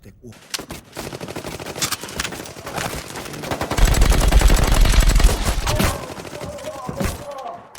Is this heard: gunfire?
yes